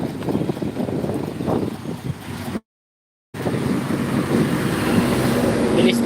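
Gusting wind blows outdoors, a broad rushing noise buffeting the microphone with a brief dropout before the steady blowing resumes.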